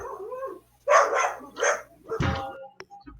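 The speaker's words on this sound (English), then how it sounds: "Who's abusing their dog in the background?" A dog barks a few times in the background during a Hexaria game session, with loud, close, sharp barks in quick succession followed by a shorter yelp.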